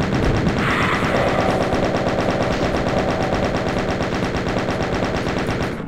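A Doom II chaingunner firing its chaingun, a rapid, unbroken stream of loud mechanical gunshots in a steady rhythm lasting several seconds, close and alone without speech.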